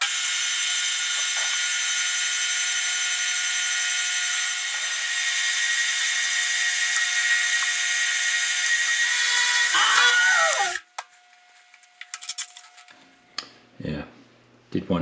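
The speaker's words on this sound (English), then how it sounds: "index around 60 degrees at a time and machine 6 flats." Milling machine cutting flats on a part held in an indexer: a loud, steady high whine for about ten seconds, ending in a brief screech as the cut stops, followed by scattered clanks and handling noises.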